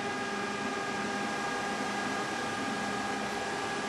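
Several computer case fans at full speed roar together in a dense, steady whoosh with layered humming tones, louder and fuller than a single fan; no speech.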